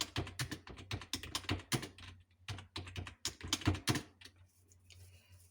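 Rapid clicking keystrokes on a computer keyboard while typing Hindi text, close and fairly quiet, in irregular bursts with a short pause midway.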